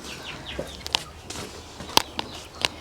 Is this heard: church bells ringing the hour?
no